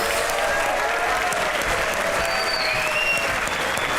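Studio audience on a Pakistani comedy talk show breaks into steady, dense applause welcoming a guest, the clapping loud and continuous throughout with a faint crowd murmur beneath.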